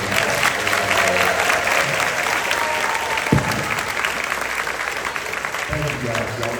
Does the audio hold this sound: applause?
yes